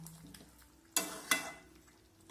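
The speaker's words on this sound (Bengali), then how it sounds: "এখন সব কিছু আমি নাড়াচাড়া করে নেব।" Cauliflower, potato and soybean curry is stirred in a pan, with two quick, quiet scraping sweeps of a spatula over a faint background.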